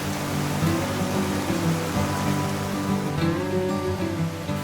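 Small waterfalls and drops tumble along a forest trout stream on the North Country Trail, giving a steady, close, broadband rush of falling water with no voices.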